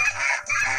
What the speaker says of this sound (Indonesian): Kayaknya kita dikejar angsa nih ya